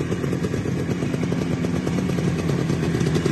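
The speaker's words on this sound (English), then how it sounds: "First kick this morning," Engine of a 1974 Yamaha RD350 two-stroke motorcycle running just after its first kick start of a cold morning, a close, steady, rattly idle with no talk.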